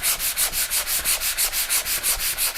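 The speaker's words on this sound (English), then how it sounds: "I'd sand it even more" Drywall joint compound being hand-sanded in steady back-and-forth strokes, a rhythmic close scratching rub repeating about five times a second with no voices.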